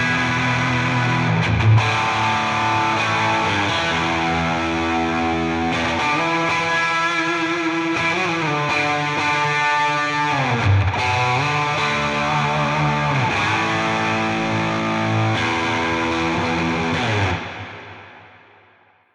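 Electric guitar played through a big, cavernous distortion preset on a Tonex amp modeler, with thick sustained chords and notes ringing continuously before fading out at the end, alone without talking.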